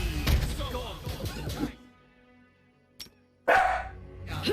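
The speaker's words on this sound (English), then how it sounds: "Sorry for my dog." A pet dog barks indoors, two or three sharp barks over someone talking, then a loud close bark burst after a pause.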